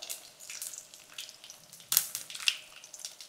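Curry leaves dropped into hot oil already crackling with mustard seeds and cumin give a soft, close sizzle with a few sharp pops and spits.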